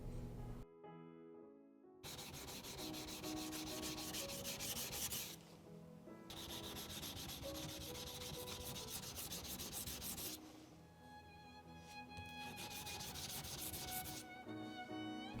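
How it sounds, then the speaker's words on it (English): A rusty knife, recovered after a year in compost, is worked on a Shapton Rockstar 320 grit whetstone, producing steady scraping and rubbing strokes with brief pauses between passes, close and fairly quiet. "Now it's ready for sharpening on the hand stones."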